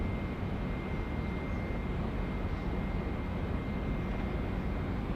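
Boeing 777-300ER of Air New Zealand arriving from Melbourne and landing at Auckland Airport, a steady loud broadband roar of jet engines held throughout, constant and unbroken with no voices.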